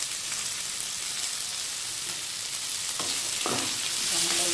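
Skin-on chicken frying in a pan, with a dense, continuous crackling sizzle and occasional clinks of stirring, loud and close.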